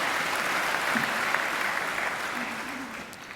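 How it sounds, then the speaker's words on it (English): Large audience applause at a Macquarie University graduation ceremony, a dense, even wash of clapping throughout with a few voices faintly beneath it. "yes, it's worth clapping, isn't it?"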